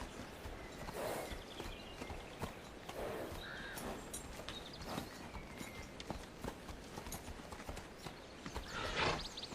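A horse being handled in training walks steadily on hard ground, its hooves clip-clopping in an uneven rhythm at moderate distance over a constant background hiss, with no talk.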